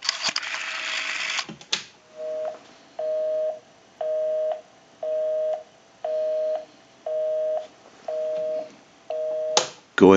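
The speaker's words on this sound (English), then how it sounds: "We'll call my number, and it'll be busy." A busy signal plays through a Western Electric rotary Trimline telephone. Eight evenly spaced tone bursts repeat in a steady on-off rhythm, clear and moderately loud, after a brief burst of noise at the start and before a click at the end.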